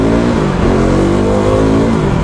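A KTM RC390 motorcycle engine revs loudly and steadily close by in traffic, with a continuous rising and falling growl and no talk.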